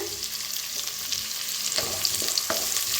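Chopped green chillies fry with onion in a hot pan, giving a steady bright sizzle with occasional sharper crackles and a few stirring scrapes, close and continuous.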